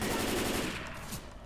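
Automatic gunfire in the zombie shooter Left 4 Dead 2 rattles in a rapid, close burst, then tapers off over a second and a half.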